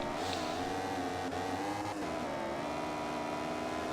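A racing motorcycle engine in the MotoGP 15 video game drones at high revs, a steady continuous whine holding its pitch with slight wavering, moderately loud and alone.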